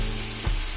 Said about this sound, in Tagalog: Na ikikisira natin kasama ng bawang, kamatis, at sibuyas hanggang sa malubog na.